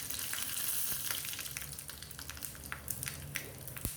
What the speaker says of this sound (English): putting 2 chillies, red chillies,